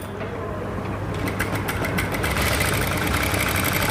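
An electric sewing machine runs steadily while stitching a blouse neckline, a close continuous mechanical whir with rapid rhythmic needle clatter and no speech.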